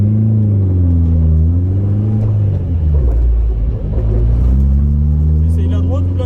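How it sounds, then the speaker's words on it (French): Toyota AE86 drifting, its engine revving in rising and falling strong low tones as the throttle comes back on through the slide, with someone talking over it. "on va relâcher l'embrayage et reprendre l'accélération pour entretenir la dérive"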